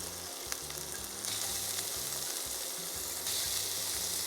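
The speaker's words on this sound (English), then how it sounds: "we're gonna start with some vegetable oil to sweat all our aromatics first" Pimento and onions sweating in vegetable oil for Christmas cranberry stuffing, heard as a steady close hiss of frying that grows a little louder partway through, with background music underneath.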